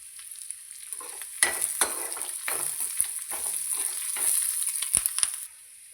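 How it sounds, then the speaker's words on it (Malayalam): Dried red chillies, curry leaves and chopped small onions fry in hot oil for Kerala koottukari, giving a bright steady sizzle with several close spoon clicks and scrapes, then the hiss drops away near the end. "വറ്റൽമുളക് ഇട്ട് കൊടുക്കാം കറിവേപ്പില ഇട്ട് കൊടുക്കാം"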